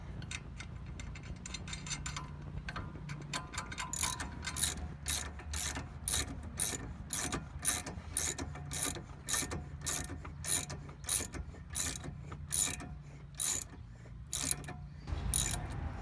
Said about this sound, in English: take the lug nuts, flat side, and tighten them right up against the actual plate